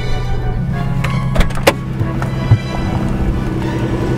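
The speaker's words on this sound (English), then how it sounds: "That sound, it sounds like a turbine, is actually the sound of my tyres being sliced by the arches" Jaguar XJS V12 tyres rubbing and being sliced by the wheel arches while driving, a steady loud turbine-like whir and rumble with a few brief sharp knocks and thumps, heard continuously from inside the car.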